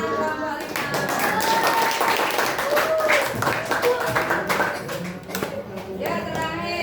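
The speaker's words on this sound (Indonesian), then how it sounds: "tepuk tangan kelompok 5." Scattered clapping from a fifth-grade primary school class for a student group, uneven and moderately loud, with children's voices chattering over it throughout.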